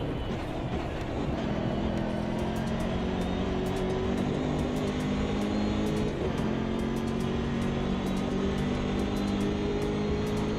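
Racing car engines in the sim game AMS2 with BMW cars on track, a steady loud droning roar with rising and shifting engine tones, and faint regular ticking above it.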